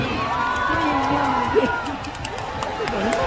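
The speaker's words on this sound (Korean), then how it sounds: "다시 한번 큰 박수 부탁드립니다" Concert audience in Goyang cheering and applauding for a trio singer's farewell ballad, a dense, steady crowd roar with scattered shouts and whoops filling the whole stretch.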